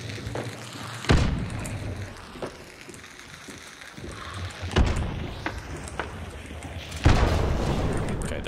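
Grenade explosions in Hunt: Showdown, three heavy booming blasts spaced a few seconds apart, each with a rumbling tail, over quieter game ambience and some speech.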